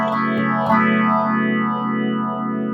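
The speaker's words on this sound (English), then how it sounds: "phase shifter is kind of weak. It's a little shallow, I think." A sustained guitar chord through a Roland Cube 80X amp's shallow phase shifter effect swirls, its tone sweeping up and down in slow, even waves over a few seconds.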